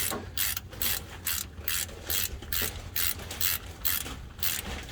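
Ratchet cranking the rear differential fill plug on a Ram 1500 pickup, a close, loud run of rapid clicking bursts in a steady back-and-forth rhythm.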